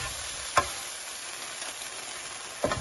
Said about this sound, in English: We're going to stir it all up